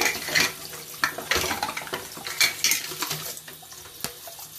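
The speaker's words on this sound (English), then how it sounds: "You can notice I'm washing this with just regular tap water." Aquarium parts from a Biocube tank are rinsed under a running tap, with close clinks and knocks of hard pieces against each other and a sink beneath splashing water, in irregular bursts.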